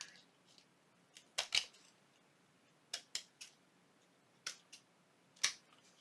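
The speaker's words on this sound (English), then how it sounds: "I'm going to trim it right here." Scissors trim paper for a junk journal booklet made with tracing paper, giving several crisp, close snips in short irregular clusters with quiet pauses between them and no talking.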